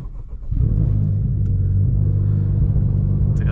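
A Honda Civic Type R FL5 fitted with a Group M intake, not yet tuned, starts with a short burst and then settles into a loud, steady, deep engine drone that holds close and constant with no talk.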